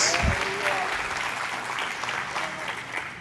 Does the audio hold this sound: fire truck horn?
no